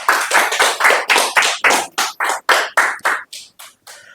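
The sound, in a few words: applause at a staff meeting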